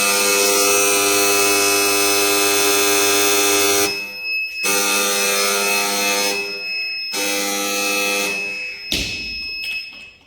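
A motion sensor security alarm in a student electronics project buzzes loudly and continuously, a harsh steady electronic tone that cuts off briefly several times before resuming, close and dominant.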